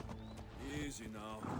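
Horse hooves clip-clopping in Assassin's Creed Odyssey on a mountain path, a quick rhythmic trot with a brief snort or whinny, heard under a speaking voice.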